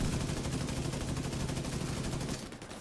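Sustained automatic gunfire rattles continuously in The Division 2 video game, a dense, fairly quiet stream of rapid shots that thins slightly near the end, with no talk over it.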